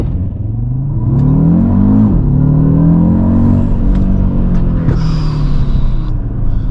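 An Audi RSQ3's engine revs hard from inside the cabin, a loud, rising and falling growl that climbs in pitch through several surges, with a few sharp pops and no talk.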